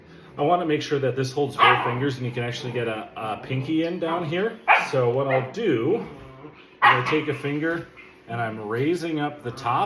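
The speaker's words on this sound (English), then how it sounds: "you can hear puppies having fun in the background" Puppies play in the background, barking, yipping and whimpering in a lively, irregular stream while someone talks steadily over them in the foreground.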